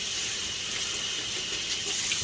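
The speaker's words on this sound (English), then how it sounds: "I usually come over here to the sink and get some real hot water running." Hot water runs steadily from a sink tap, a continuous bright hiss and splash close to the listener, unchanging and alone for the whole moment.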